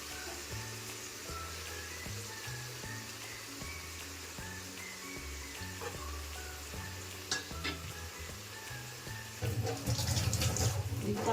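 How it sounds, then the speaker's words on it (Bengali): Ground cumin, coriander, turmeric and chilli powder stir-fried together in a pan, a soft sizzle and scraping stir under background music, growing louder and busier near the end. "একসাথে মশলাটা কষানো হবে।"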